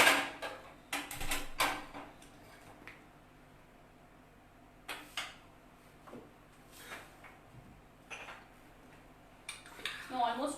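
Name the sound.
pan being placed down in the kitchen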